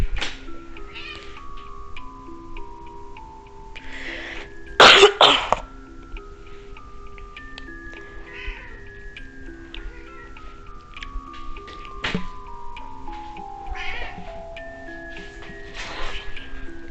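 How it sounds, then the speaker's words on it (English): A cat meows several times in Prescription: Love, short drawn-out falling cries spread across a quiet game scene with soft background music and a brief loud burst midway. "My cat! My cat."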